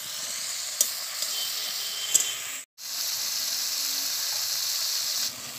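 A frying spice mixture sizzles steadily as a little water goes in, giving a loud, even hiss with a few faint stirring taps and one brief cut-out midway.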